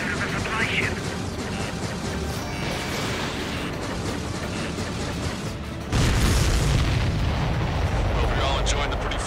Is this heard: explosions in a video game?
yes